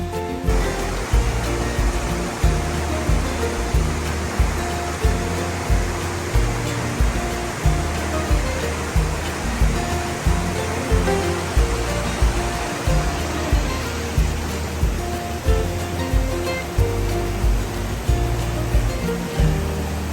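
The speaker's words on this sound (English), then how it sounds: "It's a lot of water coming from the other side, right? We got water pouring out." Loud, steady rush of river water pouring down beside a narrow hiking trail at Virgin Falls State Natural Area, a dense continuous roar with no voices over it.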